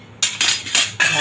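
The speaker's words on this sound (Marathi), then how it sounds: "झाकण ठेवते," Metal lid set onto a cooking pot of simmering vegetable matar pulao on a gas stove, a quick run of three or four bright, close clattering clinks.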